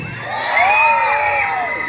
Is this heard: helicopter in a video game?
no